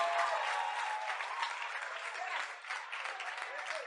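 Congregation at a Haitian church service applauding and calling out in acclaim, a steady dense wash of clapping and voices that holds for several seconds before easing slightly.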